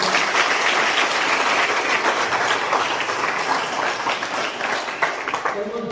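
An audience at a school education event gives loud, sustained applause with dense clapping that holds steady for several seconds and eases slightly near the end.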